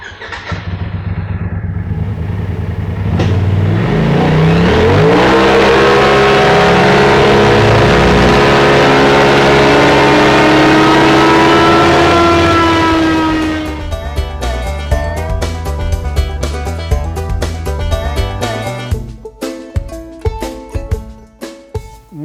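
Polaris RZR Turbo S engine on a dyno, climbing from a low idle to a loud sustained rising roar under load, then dropping off into crackling, popping deceleration and a fading idle.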